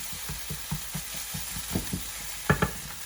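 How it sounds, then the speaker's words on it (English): Spices, onion and tomato for rajma curry are frying in a pan while a spoon stirs them, giving soft rhythmic scrapes over a constant sizzle. "So you need to stir all these spices to it very well."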